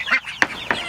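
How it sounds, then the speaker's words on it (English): Meat poultry of mixed breeds honk and call in a few short, sharp bursts, close by and fairly loud, with brief gaps between calls. "Here are our meat birds that we bought."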